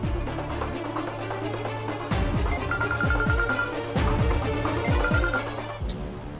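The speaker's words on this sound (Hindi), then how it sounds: "ये लड़की फोन क्यों नहीं उठा रही है?" A telephone rings repeatedly in regular bursts, going on unanswered with no voices.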